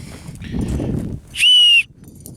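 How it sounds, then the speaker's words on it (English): A small whistle made of deer antler gives one sharp, high, clear blast lasting about a third of a second, loud and close, after a stretch of low rumbling handling noise outdoors. "this little whistle. It's made out of a deer antler that I got at Boot Hill Museum."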